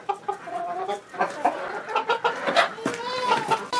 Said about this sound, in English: I've got old chickens in here,